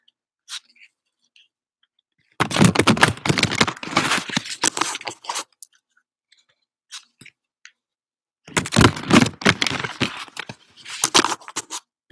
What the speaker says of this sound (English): And then we'll go ahead and shuffle that for you.